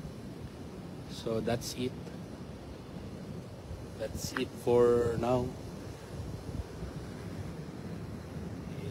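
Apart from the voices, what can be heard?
wind blowing on the microphone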